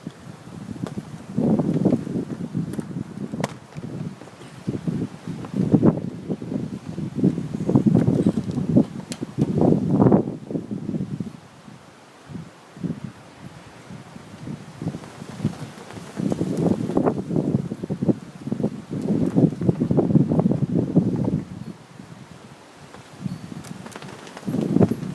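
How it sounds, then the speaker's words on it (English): Gusty outdoor wind buffets the microphone in repeated low rumbling surges, swelling and easing for the whole stretch, loud and close, with no voices over it. "Hope it's not too windy for you."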